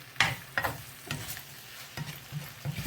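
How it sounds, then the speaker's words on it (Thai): Sour bamboo shoots with glass noodles, holy basil leaves and fresh chili being stir-fried, a soft sizzle broken by several scraping stirs of the spatula, close by and fairly quiet. "ผัดหน่อไม้เปรี้ยว ใส่วุ้นเส้นจ้ะ ใส่ใบกะเพรา ผัดกับพริกสด"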